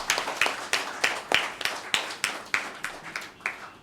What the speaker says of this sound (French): veuillez bien les applaudir d'abord